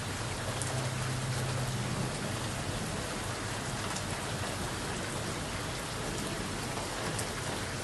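Heavy storm rain pours down hard in a steady, dense roar of drops hitting surfaces, loud and unbroken throughout, with no talking.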